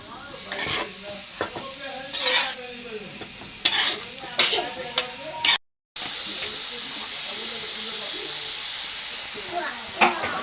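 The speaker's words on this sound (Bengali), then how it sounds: "আমি আর একটু ভেজে নিব" Fish bones frying in oil with turmeric and chili, sizzling with clattering stirs of a spatula against the pan, a brief cut of silence midway, then a steady hiss; a voice talks over the first half.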